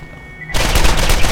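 A loud burst of rapid automatic gunfire from a gun in Borderlands GOTY Enhanced erupts after a short quiet lead-in and runs continuously to the end, dense and close.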